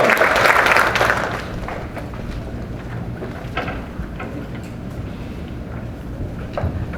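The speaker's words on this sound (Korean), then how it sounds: "자, 우리 모두 축하와 격려의 박수를 같이 해볼까요?" An audience claps at a Korean language teachers' academic conference, a dense burst of applause that swells at first, then thins to scattered claps and room noise.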